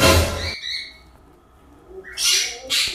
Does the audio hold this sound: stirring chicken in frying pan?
no